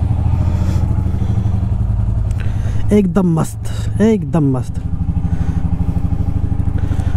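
A motorcycle engine idles steadily while warming up on a cold morning, a continuous low rumble running throughout, with someone speaking briefly over it near the middle.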